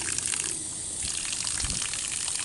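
Water gushing steadily from a tap while an RV water softener is back-flushed, a loud continuous hissing rush that runs the whole time.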